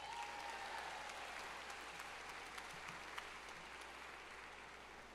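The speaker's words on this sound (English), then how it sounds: "Please also give them a round of applause." Distant, soft applause from a large crowd at a community college commencement ceremony, a steady even wash of many hands clapping throughout, heard faintly as if across a big hall.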